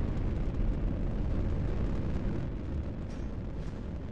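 A missile launch in a real-time strategy game: a steady, heavy roaring rush of rocket exhaust that holds loud and fairly even from start to finish, with no voices.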